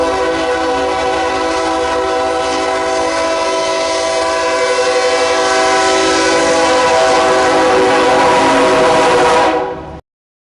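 Norfolk Southern locomotive 8099 passes close by, its horn blaring loud and sustained for about ten seconds over the rumble of the train before cutting off abruptly.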